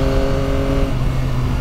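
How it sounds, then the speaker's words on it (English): A 2023 Yamaha Tracer 9 GT Plus sport tourer with an 890cc CP3 three-cylinder engine revs loud and close, a steady engine drone that eases slightly partway through. "That 890cc CP3 engine is just an absolute peach."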